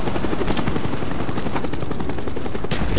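Video-game MP5 submachine gun firing in sustained loud bursts, a dense rattle of rapid shots over constant battle noise, with a louder volley near the end.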